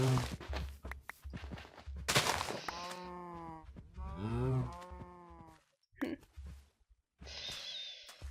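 A cow in the Minecraft video game moos several times, loud and close, with drawn-out tonal lowing calls between clumps of footstep-like thuds and other game sounds.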